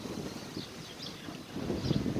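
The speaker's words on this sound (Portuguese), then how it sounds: "desculpe estar ventando um pouco" Wind gusting and buffeting a nearby microphone, a rough, breathy rush that swells slightly toward the end.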